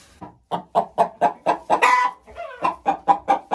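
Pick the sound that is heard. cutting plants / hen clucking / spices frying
hen clucking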